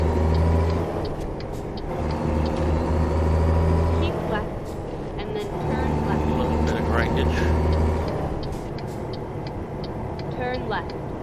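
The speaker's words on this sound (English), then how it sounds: "I rev way too high." A truck in American Truck Simulator revs its engine too high, giving a heavy, steady low drone that swells and eases with the throttle while a voice talks over it.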